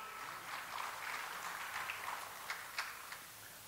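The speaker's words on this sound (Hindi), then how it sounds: "ताली बजाकर प्रणाम कीजिए।" An audience at a Ram Katha religious discourse claps together in salute, a steady wash of many hands at moderate distance with a few sharper individual claps near the end.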